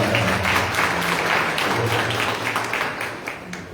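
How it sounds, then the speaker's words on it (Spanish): An audience applauds a speaker at a community forum, a dense, continuous burst of clapping close by that gradually thins toward the end. "yo quiero cederle la palabra a la profesora Teresita con un aplauso de ustedes"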